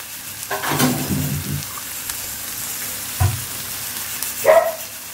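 Whole spices (cinnamon, cloves, small cardamom) with ginger garlic paste frying in a pan on a medium gas flame, giving a steady soft sizzle with a few louder scrapes and clatters, no talking.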